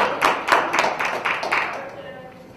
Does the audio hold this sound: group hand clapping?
yes